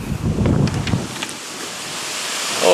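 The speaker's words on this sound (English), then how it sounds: "as I said earlier, it's a bit windy" Gusty wind buffets the microphone outdoors beside open water before a swimming race, a loud rumbling roar at first that eases into a softer steady rush.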